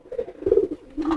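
A male racing pigeon coos in courtship toward a hen, a short run of soft, throaty, rolling coos, close and fairly quiet with no talk over it.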